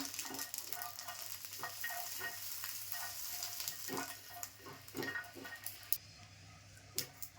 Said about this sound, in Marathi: हे 2 टोमॅटोसुद्धा छान असे खरपूस भाजून घेणार आहे